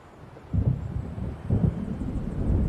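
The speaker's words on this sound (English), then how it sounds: "It seems there's a storm coming." Low rumbling thunder of an approaching storm in Alan Wake Remastered, two swelling rolls that build into a sustained deep grumble, steady and moderately loud with no voices.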